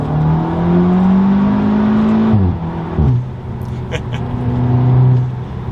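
An Audi S3 fitted with a carbon fiber intake revving under throttle, rising engine drone interrupted by two quick shifts, then pulling again, with faint brief talk in the cabin.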